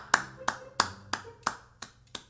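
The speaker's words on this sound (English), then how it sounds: "I'm clapping" Hand claps in a basketball gym after a one-on-one dribbling contest, seven sharp claps spaced irregularly at a steady moderate pace, fairly close, with faint room noise and no talk over them.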